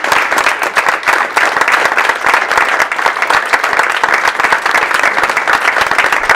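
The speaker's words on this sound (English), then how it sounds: "Please give my friend Regina Jostoffer a round of applause." Loud, sustained applause from a Toastmasters audience, many hands clapping in a dense, even roar at close range that continues without a break for over six seconds.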